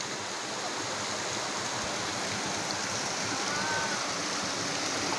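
River stream flowing at an outdoor picnic spot, a steady broadband rush of water that stays constant and fairly close throughout, with no talk over it.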